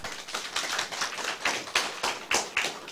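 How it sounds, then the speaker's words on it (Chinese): An audience at a seminar closing address claps together in quick, uneven bursts, with sharp slaps piling into a steady patter close by and no voices over it. "鼓掌一下，好无？"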